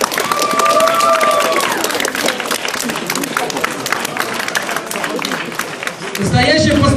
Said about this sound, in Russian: твои аплодисменты!